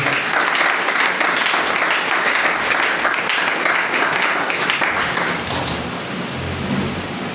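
A church congregation applauds with sustained, dense clapping that fills the room and tapers slightly toward the end, with a faint murmur of voices underneath.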